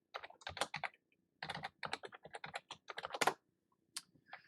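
Rapid bursts of close keystrokes on a computer keyboard as an administrator password is entered during a Samba 4 Active Directory setup on Ubuntu, clustered clicks with short pauses and a final isolated tap, no talking.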